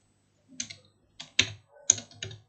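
A few quick, close computer keyboard keystrokes in short bursts as text is entered during Excel VBA work, clicky and separate, with quiet gaps between them.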